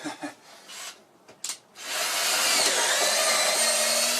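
A few faint scraping and tapping sounds, then a cordless power drill with a dying battery whirs steadily and loudly for a couple of seconds, driving 3-inch screws during kitchen cabinet installation.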